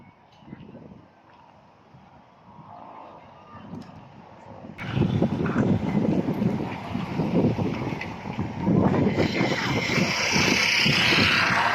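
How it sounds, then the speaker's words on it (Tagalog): Strong gusting wind buffeting the microphone outdoors while a kite is flown, a softer rush at first that turns loud and roaring about halfway through and stays blustery to the end. "Ang lakas ng hangin."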